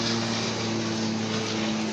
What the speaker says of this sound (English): that's a plane flying over.